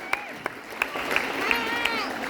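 An audience at a Hindi comedy poetry gathering (hasya kavi sammelan) in Mangaluru breaks into sustained applause, a dense wash of clapping with a few sharp louder claps standing out.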